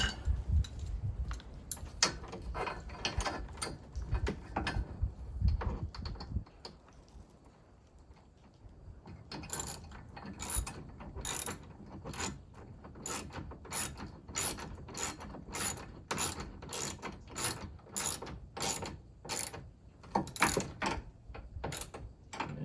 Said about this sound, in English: We're ready to start bolting her in.